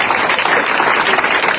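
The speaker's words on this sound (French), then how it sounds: "et bien des applaudissements" Brief, loud burst of continuous applause from an audience at a press conference with Miss France candidates, heard close and unbroken.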